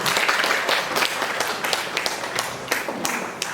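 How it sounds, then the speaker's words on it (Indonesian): Audience applause at a parenting seminar at SD Qur'an Ar Risalah, a dense, steady crowd clapping that carries throughout, fairly loud and sustained. "Kita kasih aplaus dulu Bapak Ibu."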